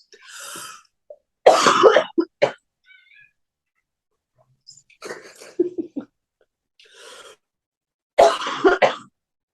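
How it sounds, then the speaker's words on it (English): Several harsh, close coughs in short bursts separated by pauses, with faint throat sounds in between. "I just had this cough"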